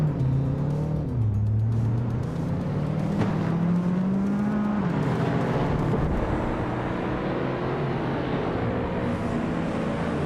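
Race car engines in a racing video game drone and whine loudly and steadily, with the pitch rising, dipping and rising again as the cars accelerate and shift.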